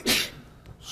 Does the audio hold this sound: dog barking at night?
no